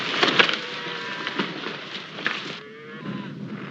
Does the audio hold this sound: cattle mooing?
yes